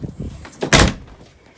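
A door swings open and shut onto a cold, windy back porch on a snowy winter night, with a short rattle, then one loud, close thud of the door meeting its frame, followed by quiet.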